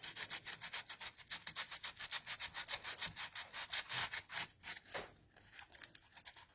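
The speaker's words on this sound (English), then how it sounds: "I'm sanding the transfer off so there's not like pieces hanging down" Rhythmic back-and-forth sanding strokes scrubbing a transfer off a cracked surface, steady and close, each stroke distinct in a quick repeating rhythm with a brief pause near the end.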